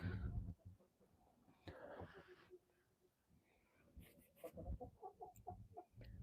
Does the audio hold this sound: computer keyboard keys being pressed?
no